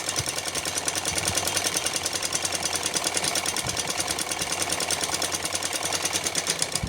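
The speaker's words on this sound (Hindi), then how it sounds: "तो मैं एक तरफ सिलाई लगा रही हूँ" A sewing machine runs a long straight seam down one side of a small doll's dress, its fast, even mechanical rattle steady and close for the whole stretch with no talking.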